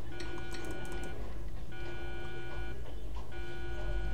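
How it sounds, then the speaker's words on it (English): A Roblox break-in game alarm rings in repeated electronic beeping bursts, each about a second long with short gaps, steady and moderately loud over a low background hum. "And the alarm is going off."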